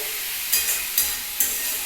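Taro greens with chickpeas fry in a pan with a steady, close hiss of sizzling. Three or four louder bursts of crackle come as the mixture is stirred, and no voices are heard.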